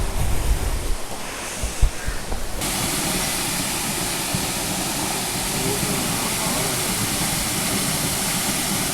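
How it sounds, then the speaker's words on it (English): Harvelam waterfall in Goa running low, a broad steady rushing hiss of falling water that fills the scene, with some rumbling handling noise at the start. "it's a pretty decent waterfall"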